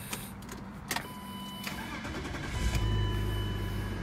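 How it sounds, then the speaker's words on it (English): A 1996 BMW 318i E36 with its check engine light on cranks with a few short starter bursts, then catches and settles into a rising, steady idle close by. "let's start it up."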